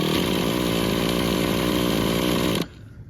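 Nitro engine of a Traxxas Revo 3.3 RC car idling close by: a loud, buzzy, high-revving rasp held steady for over two seconds before cutting away abruptly to near quiet.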